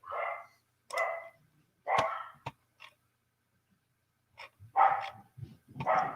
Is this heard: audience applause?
no